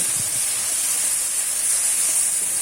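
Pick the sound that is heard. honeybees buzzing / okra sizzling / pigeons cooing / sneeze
okra sizzling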